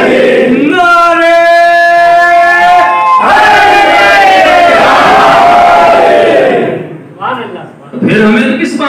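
A large crowd at a Shia majlis chants religious slogans in loud unison, long sustained voiced calls repeated in waves, close and powerful, fading briefly near the end before rising again.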